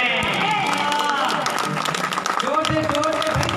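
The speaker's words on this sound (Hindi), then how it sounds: "जोर से भाई ताली जोर से होनी चाहिए।" A church congregation at a live Palm Sunday service applauds loudly in steady, dense clapping throughout, with voices mixed in beneath the applause.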